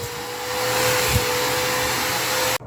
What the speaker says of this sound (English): So, vacuum this up, clean it up.